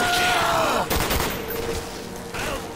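Rapid gunfire from the video game Black Ops 1 Zombies crackles loudly in bursts, mixed with a groaning game sound.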